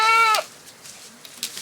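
A female goat gives one loud, close bleat that stops abruptly, followed by near quiet with a few faint, soft rustles.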